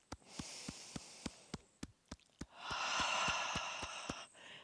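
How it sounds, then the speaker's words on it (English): Slow breathing drawn in through the nose and released out through the mouth during a guided wake-up breathing exercise, a soft nasal inhale followed by a longer, fuller airy exhale, close and quiet with a steady rhythmic tick underneath. "in through the nose, out through the mouth"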